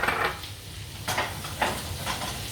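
Whole butter sizzles in a pan for a beurre meunière, a soft steady fizz broken by a few sharp metallic knocks and scrapes of a utensil against the pan.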